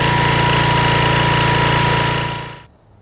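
A Powerchief 3.5 kW generator with an 8 hp Briggs & Stratton engine and Baldor alternator runs loud and close with a steady rattling drone, then cuts out abruptly, leaving near silence.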